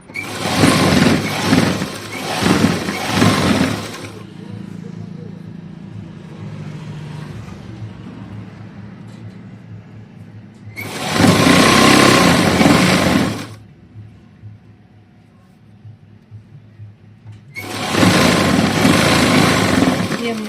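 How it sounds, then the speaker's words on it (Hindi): Sewing machine stitching a heavy-size peplum kurti in loud, steady motor bursts, three runs of several seconds each separated by quieter stretches with faint handling and background hum. "अब हम यहाँ पर सिलाई लगाते चलेंगे। हमने पूरे पर ऐसे ही सिलाई लगा देनी है।"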